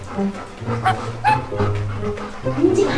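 A dog yips and whimpers excitedly in short bursts, close by, with bits of voices mixed in.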